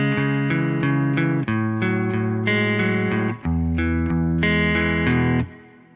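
Clean electric guitar playing a sustained arpeggio pattern from a song in standard tuning, loud and ringing with rich chorus-like shimmer, shifting chords every second or so and fading at the end.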